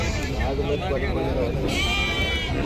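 A crowd of sheep bleating steadily and close at a livestock market in Hiriyur, overlapping calls under busy chatter and voices.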